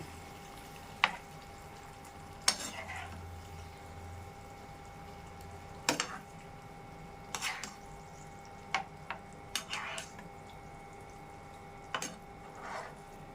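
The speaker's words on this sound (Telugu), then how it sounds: "ఇలాగా మెల్లగా కలిపేసుకోవాలి" A green chicken curry is gently stirred in a pan, with a spoon clinking against the metal every second or two over a soft, steady simmer. No one speaks.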